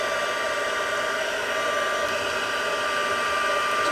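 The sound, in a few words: heat tool embossing heat and stick powder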